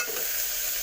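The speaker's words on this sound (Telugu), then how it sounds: "కొంచెం పసుపు వేసుకోవాలి, 2 స్పూన్లు వేసుకొని బాగా కలిపేసుకోవాలి." Turmeric stirred into masala in a hot pan, a steady soft scraping and sizzle close by for under a second, with no voices.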